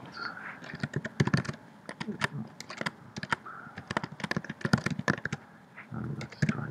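Quick, uneven key clicks from a computer keyboard as C++ code is typed in Xcode, close and fairly loud, with a brief pause near the end before the typing resumes.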